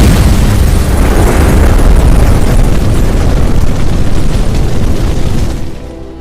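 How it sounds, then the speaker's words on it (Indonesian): A bomb blast destroys a strip club in a film scene, a loud, sustained roaring boom that rumbles heavily for several seconds before fading away at the end. "Robert pun meledakkan tempat itu."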